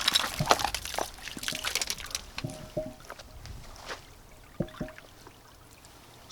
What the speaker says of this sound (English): Now let's catch us some water.